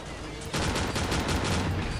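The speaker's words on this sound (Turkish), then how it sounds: "Bak hala bir yerden geliyor mermi" Bursts of rapid automatic gunfire erupt after a brief quieter lead-in in Call of Duty 4: Modern Warfare, loud and sustained with overlapping shots.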